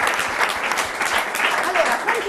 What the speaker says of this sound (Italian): io personalmente vi faccio un applauso perché siete bravi